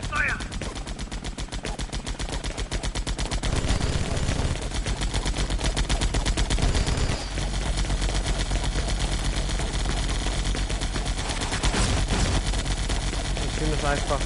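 Sustained enemy machine-gun fire in the air-combat game Air Conflicts: Vietnam, dense rapid bursts rattling continuously and loudly throughout with a few heavier impacts, under occasional talk.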